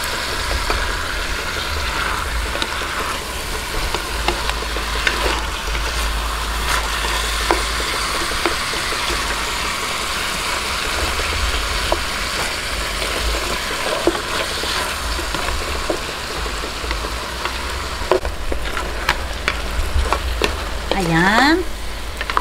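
Sautéed pork hock with a pork cube stirred in a pan for monggo stew, a loud, constant sizzle with scattered scraping and clatter from stirring, close by with low background rumble.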